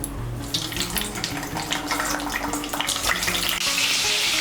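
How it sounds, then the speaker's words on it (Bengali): Pointed gourds (potol) frying in hot white oil in a kadai, giving a steady, dense sizzle with crackling bursts and a wet, tap-like hiss throughout, loud and close with no talking. "তেলটা গরম হয়ে গিয়েছে, এর মধ্যে পটলগুলো ভেজে নেব।"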